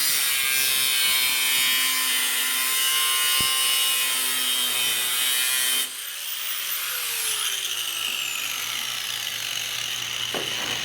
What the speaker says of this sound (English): take an angle grinder with a cutoff wheel